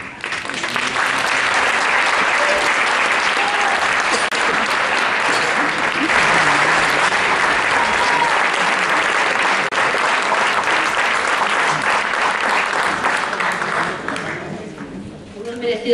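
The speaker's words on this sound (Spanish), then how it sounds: "Merecidos aplausos para este grupo" Sustained, loud applause from a concert audience for a seniors' choir at a Christmas concert, with dense clapping holding steady for a long stretch before tapering off near the end.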